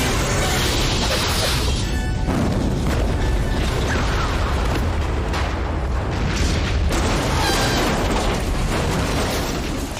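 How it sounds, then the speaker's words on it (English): A big movie explosion set off by a cigar fills the scene with a dense, loud, sustained roar and rumble that rolls on for several seconds without a break. "That was such a big explosion from a cigar."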